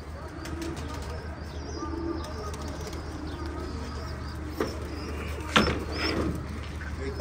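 Pigeons cooing softly in a loft with occasional chirps and a brief burst of wing flapping, faint and nearby over a steady low hum.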